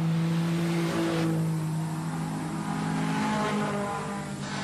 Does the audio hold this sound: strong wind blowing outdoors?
no